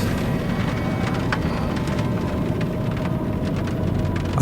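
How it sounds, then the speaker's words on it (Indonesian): Heavy rain pours down steadily as a constant, dense wash of noise with scattered sharper drops, continuous and fairly loud, no voices. "hujan mulai turun dengan deras"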